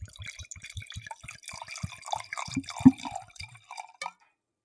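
Liquid poured heavily into a glass, heard as a quick run of close wet splashes and drips that builds to a louder gush near the end before stopping.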